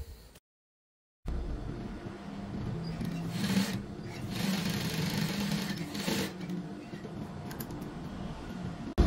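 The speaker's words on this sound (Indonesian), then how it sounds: "kemudian kita jahit bagian kantongnya, bagian atasnya dulu" Sewing machine stitching the top edge of a patch pocket on a koko shirt, a steady continuous motor hum and needle chatter running for several seconds after a brief silent gap, close and fairly loud.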